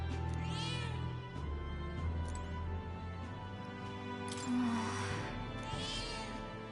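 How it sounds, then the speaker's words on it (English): A cat in the video game Metaphor: ReFantazio meows a few times, soft drawn-out calls over a quiet, steady game music bed with no talking. "That's a good kitty."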